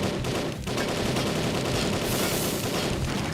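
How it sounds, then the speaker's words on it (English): Sustained machine gun fire from a video game, a dense continuous rattle of rapid shots filling the whole moment at steady loudness, alone without talk. "Machine gun."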